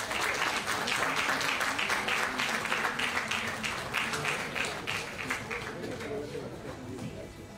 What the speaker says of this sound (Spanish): este aplauso cariñoso